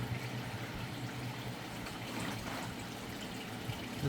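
Water pours and trickles steadily onto plants for a few seconds, a soft continuous splashing heard up close with no voices.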